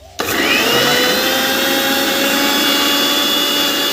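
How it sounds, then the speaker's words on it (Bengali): Electric mixer grinder starts abruptly and runs continuously at high speed, a loud steady whirring drone close by, used while making no-oil hariyali chicken at home. "তাহলে তো আমি মিক্সিতে ঘুরিয়ে দেবো"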